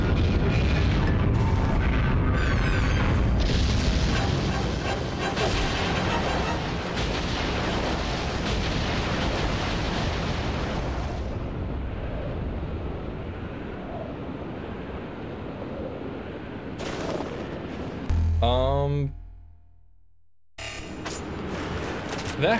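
Explosion in a video game near a steel tower, a loud sustained booming roar that slowly fades over many seconds, followed by brief game sound effects and a short silence.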